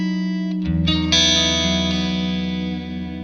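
A guitar runs through an effects unit with two reverbs stacked, so sustained chords ring out with a washy, shimmering modulated tail; struck notes swell and blend into a continuous loud, lush wash with no voices.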